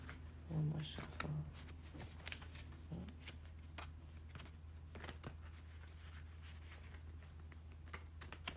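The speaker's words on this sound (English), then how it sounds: "One more shuffle." A deck of oracle cards is shuffled by hand at close range, producing soft papery riffling and light tapping clicks, faint and intermittent, with quiet speech at moments.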